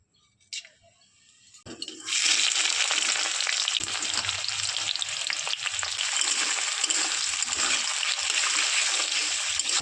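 Whole garam masala, cardamom, black peppercorns and capsicum frying in hot oil for a fish dish. After a brief click, a loud, steady, close sizzle starts about two seconds in and continues without a break, with no talk.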